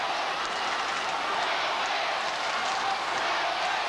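Steady roar of a large football crowd at the Sydney Cricket Ground during a 1991 Sydney versus Hawthorn match, a continuous wash of cheering and shouting without breaks.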